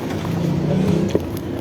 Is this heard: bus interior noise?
yes